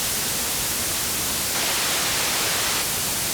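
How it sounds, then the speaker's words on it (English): Steady broadband noise shaped like white noise with the mids pulled down and the lows and highs lifted, loud and continuous, brightening and filling out further around the middle of the stretch. "taking the white noise, pulling a certain amount of the mids out, and technically probably boosting the lows and highs."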